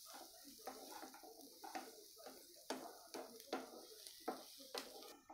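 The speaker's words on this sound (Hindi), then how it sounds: "अभी इसको अच्छी तरह मिक्स कर लेंगे। ये देखिए, मिक्स कर रहे हैं।" A spoon stirs a chicken masala mixture with onions in a pan, giving faint, repeated scraping and clinking strokes in a steady rhythm at low level.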